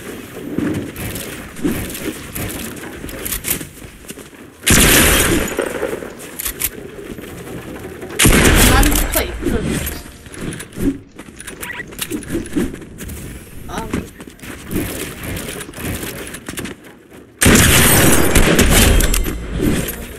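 Pump shotgun blasts in a fast-paced online shooter game, three loud broadband bursts spaced several seconds apart over busy game sounds and background voices.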